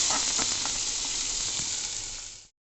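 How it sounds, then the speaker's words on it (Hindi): Onions fry in a pan for mutton curry with a dense, steady sizzle, close and loud, with faint stirring ticks, before it cuts off abruptly. "प्याज को सुनहरा होने तक भूनना है"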